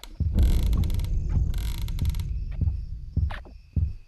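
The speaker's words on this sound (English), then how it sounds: "Just close the damn door" A door closing in the game Polterheist, creaking mechanical movement followed by a few dull knocks and thuds, close and fairly loud with no talk.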